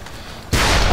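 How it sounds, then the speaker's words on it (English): A rocket launcher fires in the voxel shooter Ace of Spades from a mountaintop: after half a second of quiet game ambience, one sudden, loud, broadband boom hits and keeps roaring to the end. "I'm gonna be sniping with a rocket launcher on top of a mountain."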